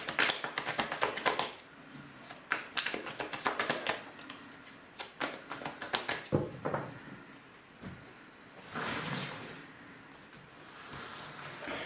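Nine tarot cards drawn and laid out, a close, quick series of crisp snaps and taps as cards are flicked and set down, followed by a soft shuffling rustle, with no talking.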